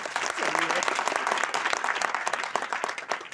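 Audience clapping at an experience-sharing meeting, a steady moderately loud ripple of many hands with a voice briefly audible over it.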